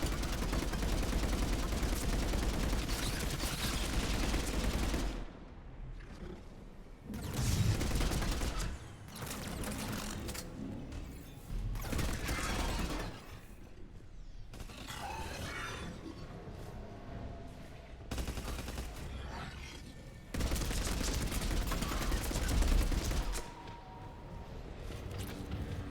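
Loud bursts of automatic gunfire from a Mass Effect 3 firefight against a harvester, several sustained volleys broken by short quieter gaps, close and dominant throughout.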